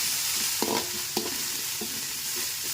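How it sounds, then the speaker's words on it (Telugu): Pasta with soy sauce is stirred in a hot pan. A faint, even sizzle runs throughout, with a few brief spatula scrapes against the metal and no talking. "ఇలా సోయా సాస్ వేసుకోవాలి. కలుపుకోవాలి."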